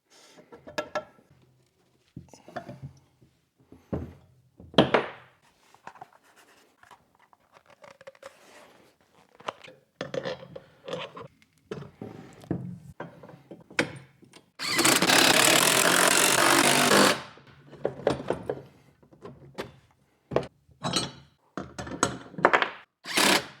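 Close workshop sounds of a Volvo 240 wagon strut and spacer being snugged down: scattered metallic clicks and thunks of tools, then a loud burst of a power tool running for a couple of seconds, followed by more clinks.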